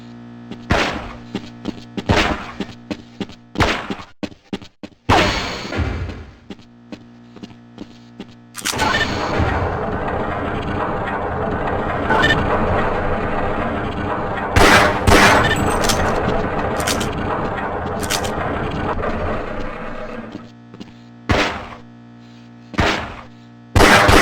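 Gunshots at the shooting range in Half-Life: Blue Shift, first a string of single sharp reports with pauses between them, then a long sustained burst of rapid fire, then more scattered shots, close and loud.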